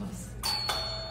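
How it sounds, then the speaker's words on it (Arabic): A doorbell rings inside a home, two bright chimes in quick succession over a quiet room hum, fairly close and clear. "اصبر دق الجرس."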